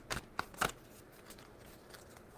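Tarot cards riffle quickly in a few short bursts close by, followed by quiet soft rustling.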